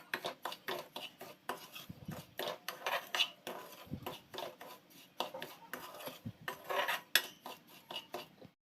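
Semolina dry roasting in a pan, stirred with a metal spoon that scrapes and clinks in quick irregular strokes, close and fairly quiet, with no talking.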